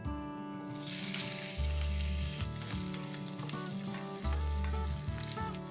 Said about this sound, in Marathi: मिरच्या देखील चांगल्या फ्राय झाल्यात।